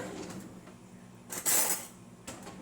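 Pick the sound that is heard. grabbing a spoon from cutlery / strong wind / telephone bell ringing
grabbing a spoon from cutlery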